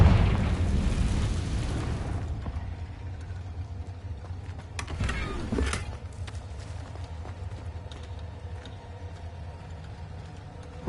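A fiery Confringo blast spell from Hogwarts Legacy erupts in a loud burst, then a second crackling impact follows a few seconds later amid low rumbling game ambience.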